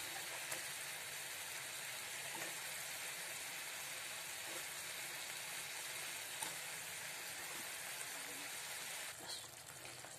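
Egg fritters (bora) frying in a pan give a steady, even sizzling hiss that runs unbroken from start to finish, with no talking.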